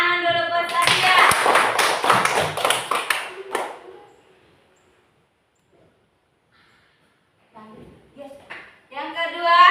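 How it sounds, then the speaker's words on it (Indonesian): Students in a classroom clapping for a classmate, a lively burst of group applause lasting about three seconds, followed by quiet and then voices speaking. "Tepuk tangan dulu buat Sadia."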